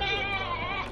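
At a livestock market in Argopeni, Kebumen, a goat lets out one loud, close, wavering bleat that lasts the whole moment, with faint background noise and no clear speech over it.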